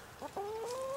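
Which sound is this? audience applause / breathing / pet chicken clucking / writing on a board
pet chicken clucking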